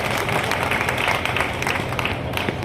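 A crowd claps steadily in a sustained round of applause at a public civic gathering welcoming local representatives, dense and even throughout.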